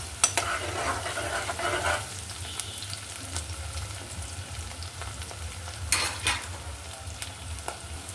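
Onions fry in oil for beef bhuna khichuri, a soft, steady sizzle with occasional stirring scrapes and a few louder clatters of a spoon against the pot, faint and without talking.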